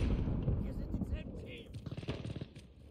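Gunfire in the multiplayer mode of the video game Call of Duty: Modern Warfare, with dense automatic bursts and rattling shots running throughout while someone talks over them.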